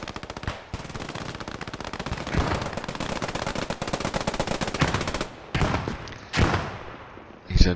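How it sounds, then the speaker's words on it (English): Machine guns fire from rooftops in an online multiplayer war game, with rapid continuous bursts rattling almost unbroken for several seconds, then a few shorter louder bursts after brief pauses. "These MGs on the rooftops,"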